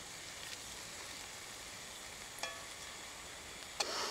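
Steak sizzling in butter with garlic in a pan on a Redcamp wood stove outdoors, a steady faint frying hiss throughout with a couple of brief louder crackles near the end.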